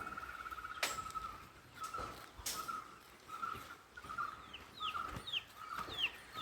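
Chickens cluck repeatedly nearby in a poultry farm, with short sharp calls and a few higher chirps scattered over a steady background of farmyard noise; no one speaks.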